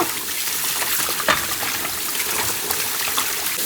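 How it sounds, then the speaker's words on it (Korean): Webfoot octopus being rinsed under a running cold tap, a steady close gush and splash of water with brief sloshing bursts as the octopus is handled, continuous throughout with no talking. "이렇게 흐르는 물에 두 번 정도 씻어주면 돼요."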